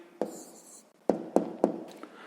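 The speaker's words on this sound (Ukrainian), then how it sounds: "Ну що ж, записуємо відповідь." A pen writing an answer by hand on paper during a sixth-grade maths exercise: a faint scratch, then a few sharp close taps and strokes spread over about two seconds.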